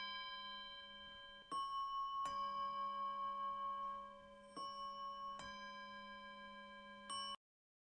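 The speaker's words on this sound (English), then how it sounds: "Do you hear those bells?" Bells ring out in Perth, Western Australia, a series of clear, resonant strikes with long sustaining tones, each new strike layering over the fading hum of the last, moderately loud and with no talking.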